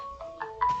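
A phone rings in a short burst of electronic ringtone tones, clear and fairly close, with no voices.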